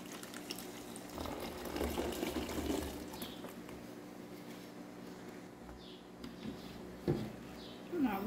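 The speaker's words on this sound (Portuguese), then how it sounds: "Vamos acabar de completar a garrafa." Liquid for a homemade banana-peel fertilizer is poured into a bottle to top it up, giving a steady, moderately close trickle and gurgle that runs throughout, with a few brief clunks near the end.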